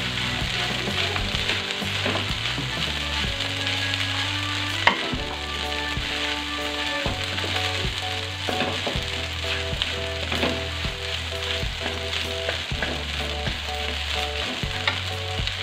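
Noodles and rice stir-fried together for nasi goreng mawut, a steady loud sizzle with occasional utensil clinks against the wok, under steady background music.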